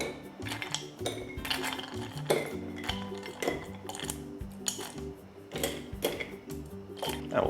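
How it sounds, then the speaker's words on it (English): Ice clinks and rattles steadily in a glass as a Negroni Sbagliato of Punt e Mes vermouth and Lambrusco is stirred, a close, busy rhythm of bright knocks with no talking. "we'll stir that down so it's nice and cool"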